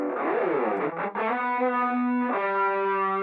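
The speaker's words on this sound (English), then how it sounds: "you hear this sort of like chorusing effect. Those are phasing issues, phasing cancellations." A stereo-widened double-tracked part collapsed to mono gives a wavering, swirling chorus-like phasing as sustained tones shift and cancel, loud and continuous for a few seconds with no talk.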